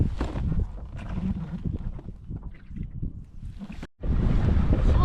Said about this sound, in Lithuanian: Tai vėjas sustiprėjo